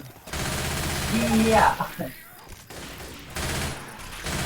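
Heavy gunfire in Left 4 Dead 2, a dense continuous burst of shots that stops abruptly and resumes, loud, with a player talking over it.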